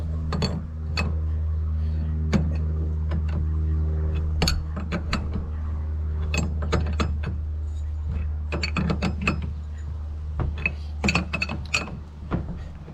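Metal pulley being pressed onto the power steering pump shaft of a 1995 Ford F350 7.3 Powerstroke, a steady mechanical hum under repeated sharp clicks and ratcheting clinks, growing busier and denser toward the end.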